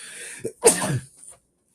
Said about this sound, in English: Excuse me, bless you to myself.